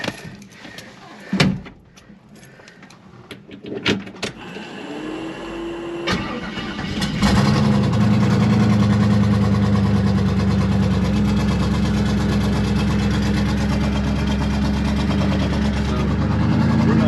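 A car sits quiet through a few clunks and taps, then cranks briefly, catches and settles into a loud, steady, close idle that runs to the end.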